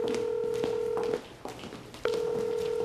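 A phone call dials and rings unanswered: a steady electronic tone cuts off, leaves a short quieter gap, then returns at full level, loud and close with no voices.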